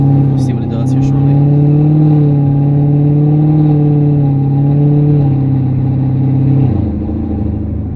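A tuned 2019 Camaro SS pulls hard with a loud, rising engine drone that climbs steadily, then drops sharply on a gear shift near the end; brief clicks sound at the start.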